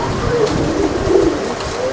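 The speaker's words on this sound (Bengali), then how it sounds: "অসাধারণ কবুতর ভাই যে নিতে যাবে ইনশাল্লাহ নিরাশ হবে না" Pigeons coo softly in a steady, low murmur at a pigeon market in Khulna, with several birds calling over one another against a constant background hum.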